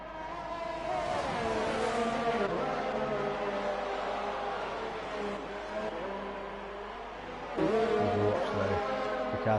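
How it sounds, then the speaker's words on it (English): Race cars from a regional racing series on a circuit in Hungary rounding a corner, several engines blending into a steady loud roar with rising and falling revs as the cars pass close by. "The cars come around this corner"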